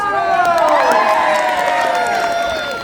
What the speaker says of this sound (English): please can you join us in giving a hearty cheer for the townspeople?